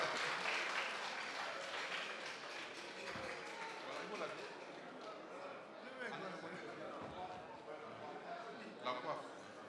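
A crowd applauds the Ghanaian president during a visit to Abidjan's autonomous district, a steady spread of clapping that fades slightly over time while talk continues above it.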